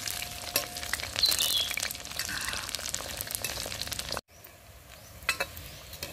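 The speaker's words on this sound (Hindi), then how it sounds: "जब तक कोफ्ते फ्राई हो रहे हैं" Cabbage kofta balls fry in hot oil and give off a loud, continuous sizzle with crackles and stirring scrapes. The sizzle drops suddenly near the end, then comes back softer.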